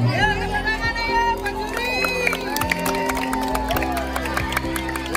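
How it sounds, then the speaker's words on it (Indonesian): A lively crowd claps and cheers at an indoor gathering with children, scattered hand claps under continuous talk and music, with shouting voices mixed in. "Yuk, tepuk tangan dong. Masih tepuk tangannya dong."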